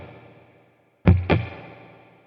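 Two sharp electric guitar hits run through a Kemper profiler with spring reverb, each leaving a long splashy, metallic reverb tail that decays after a brief silence.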